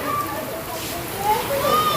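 Heavy rain pours down at a farmhouse in a castor-growing area, a dense steady hiss and splatter close by, with people's voices faintly over it.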